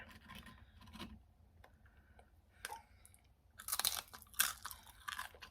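Spicy nachos with peppers crunched and chewed up close, scattered soft bites building to louder crisp crunches near the end, quiet overall with no talking.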